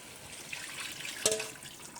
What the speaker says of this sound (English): And I'm gonna add some more water to cover all the chicken.